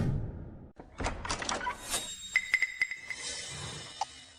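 A door being forced open, with heavy thuds and banging, scraping, then a run of sharp metallic clinks as the latch or lock gives way, loud and close with no talking.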